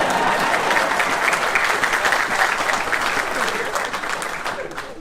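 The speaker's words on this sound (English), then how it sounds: "You can clap if you wanted to." Crowd at a university stadium groundbreaking ceremony breaks into applause, a thick wash of clapping with some cheering that gradually thins toward the end, with no one talking over it.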